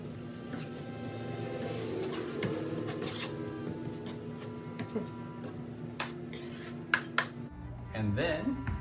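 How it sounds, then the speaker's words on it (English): A metal spatula scrapes and spreads drywall mud along a wall crack, giving soft repeated scraping and clinking taps over a steady background hum that cuts out near the end, followed by a brief rustle. "take it and you spread it along the crack just like so"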